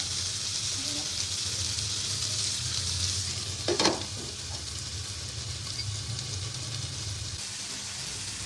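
Hot coal smoking grilled chicken tikka boti gives a steady close sizzling hiss throughout, with a brief louder crackle burst near the middle; no talking.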